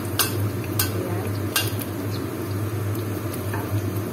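Garlic sautés in cooking oil that is not yet fully hot, giving a faint steady sizzle over a low hum, broken by a few sharp clicks of a utensil against the pan.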